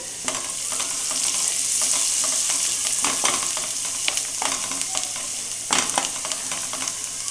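A spoon stirs and mixes live-crab curry in a hot pan, scraping and clattering in uneven strokes over a steady sizzle of frying, close up with no voices.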